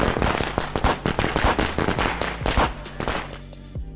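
A pack of firecrackers goes off on a street, a dense, loud string of sharp overlapping pops crackling rapidly for several seconds before thinning out, with no voices.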